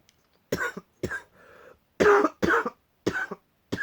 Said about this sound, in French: quand vous commencez à tousser, c'est hyper galère.